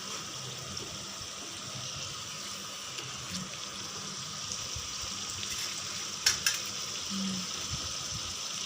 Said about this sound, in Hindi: हमें इसको भी इसी तरह गोल्डन ब्राउन होने तक सेकना है।